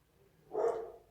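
A single faint dog bark sounds in the background of an indoor room, a brief muffled woof from some distance with no other sounds nearby.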